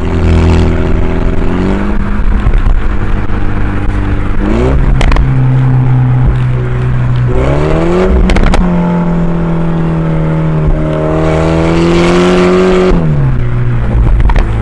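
A 2019 Mini JCW with a pro tuning kit and a loud JCW pro exhaust, its valve open, revs up and drops back repeatedly, the engine note climbing and falling with sharp pops and cracks between the pulls, loud and close throughout.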